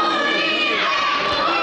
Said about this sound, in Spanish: El grito de apoyo también es para Silver